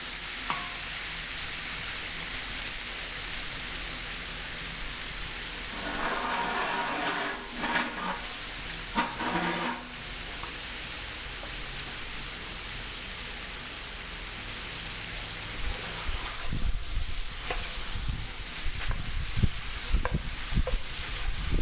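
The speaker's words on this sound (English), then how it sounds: "we're going to fry this up really good. This is just pork butt." Pork butt fries in a pot for a Cajun jambalaya, a steady hiss of sizzling fat with occasional stirring clatters and sputters rising toward the end, no speech.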